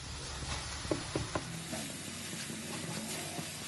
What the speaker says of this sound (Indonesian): Nah, daun mengkudunya bisa kita aduk-aduk sebentar.